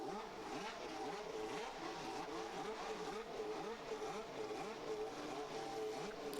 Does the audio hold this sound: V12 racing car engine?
yes